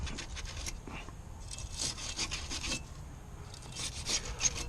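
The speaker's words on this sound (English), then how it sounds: "Clean up your back plate here as best as you can, and corrosion off" A Chevy Impala rear brake backing plate is scrubbed free of corrosion, making repeated close rasping strokes in uneven bursts with short pauses between them.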